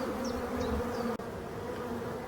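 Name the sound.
swarm of honeybees buzzing beside a hive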